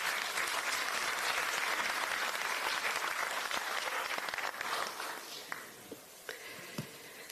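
A crowd at a Democratic Party of Korea political meeting breaks into loud sustained clapping that thins out and fades over the last couple of seconds.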